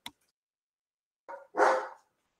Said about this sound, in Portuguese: Perdão, é o meu cachorro.